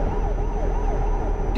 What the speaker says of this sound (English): And that's the wrong siren for Germany.